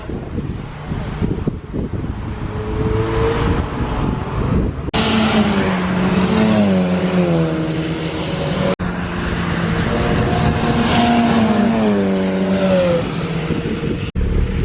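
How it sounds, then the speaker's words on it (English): Mazda MX-5 race cars lapping Silverstone National Circuit in the rain, a loud, close engine drone rising and falling in pitch through gear changes, with wind buffeting throughout and no talk. "So they've just gone out for their first testing lap, first few laps"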